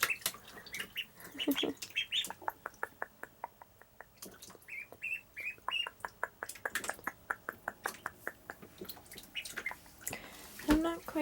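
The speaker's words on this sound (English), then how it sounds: "They love playing in the shower." Ducklings play in running shower water, with trickling and splashing mixed with high peeps and small quacks, and a soft voice speaking at times.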